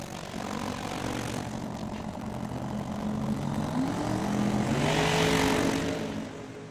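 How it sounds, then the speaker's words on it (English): A drag racing car sits at the start line of a national finals meet, its engine spooling with a throaty rumble and rising tones that build over several seconds, heard from a moderate distance. "Well, Phil took a bit of a while spooling."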